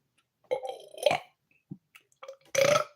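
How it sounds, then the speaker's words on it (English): A person burps on demand, a long croaky belch followed by short mouth noises and then a second loud, rough burp, all close to the microphone with no talking. "I can burp on demand."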